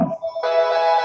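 A telephone rings with an incoming call in a kitchen during soap making: a steady electronic ringtone with a sustained tone that swells fuller partway through, loud and alone without talk.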